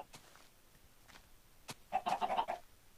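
Chickens in Minecraft clucking: a few sparse short clucks, then a close, louder burst of rapid repeated clucking lasting about half a second, with no talk.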